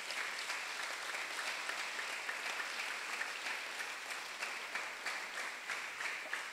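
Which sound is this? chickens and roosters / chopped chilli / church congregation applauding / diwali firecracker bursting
church congregation applauding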